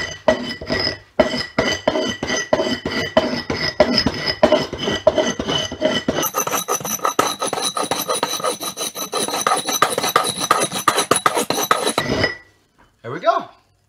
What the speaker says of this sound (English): Now, I'll just quickly get rid of the burr.